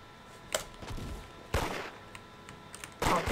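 Gunshots ring out in the Roblox game Da Hood, three loud separate bursts spaced roughly a second and a half apart, with fainter clicks and thuds between them.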